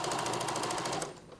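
A sewing machine runs fast and close, stitching along a two-sided fabric edge on a ruffled princess dress, with a rapid, even mechanical rattle that slows and stops after about a second.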